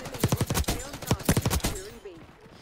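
Jackal PDW bursts crack in a Black Ops 6 Domination match. Two rapid strings of about five or six loud, close shots each are split by a short gap, and the last burst trails off into quiet. No one speaks.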